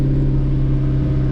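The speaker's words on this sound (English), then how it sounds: "So you have to apply the throttle, just mash the throttle with the brake held." A McLaren MP4-12C engine runs with the throttle held down and the brake on, a loud, close, steady mechanical drone with a strong low hum and no breaks.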